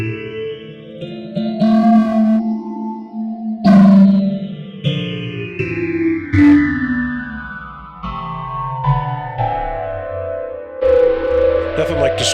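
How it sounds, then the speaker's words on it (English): A piano played through phaser and distortion effect plugins, its sustained chords smeared into sweeping, swirling tones with gritty overdrive and long washes of echo, loud and continuous with no talking. "Nothing like distortion and phase on a piano."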